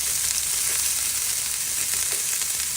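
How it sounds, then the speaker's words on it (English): Onions caramelizing in a frying pan, a dense, even, close sizzle that holds steady throughout with no pauses. "Just let the onions caramelize just a little"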